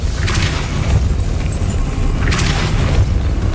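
A Depulso spell is cast in Hogwarts Legacy, producing deep, rumbling booming blasts under a constant low ambient roar, with two brighter whooshing bursts about two seconds apart.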